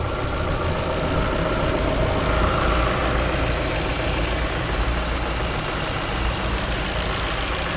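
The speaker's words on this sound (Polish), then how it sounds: "No, silniczek ładnie równo pracuje." A Ford Focus engine idles at a steady, even rumble, heard up close with a continuous low drone and no talking.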